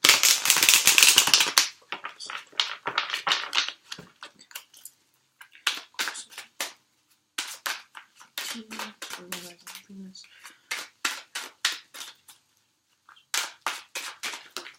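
A quick riffling flutter of cards, followed by sharp, scattered flicks and taps, with a voice speaking briefly in between.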